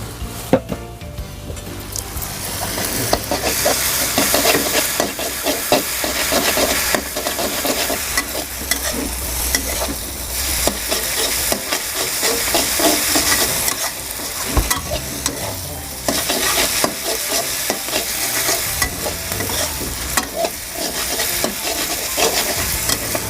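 Thin rice noodles for pad thai stir-fried with sauce in a hot pan, giving a loud, steady sizzle with continual scraping and tossing from start to finish and no talking.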